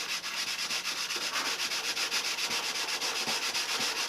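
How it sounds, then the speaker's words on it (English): Hand sanding a balsa turtle deck on a model airplane with a sanding block: a steady, close, continuous rhythmic rubbing and scratching of back-and-forth strokes, with no talk. "we'd like to do is sand this turtle deck a bare minimum"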